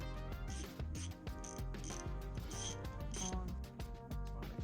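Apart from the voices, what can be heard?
half-inch ratchet tightening T45 head bolts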